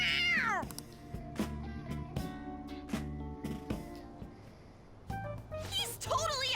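Cat meowing within the Persona 5 Royal video game, rising mewing cries at the start and end over layered game music and sound effects, with in-game voices talking in between.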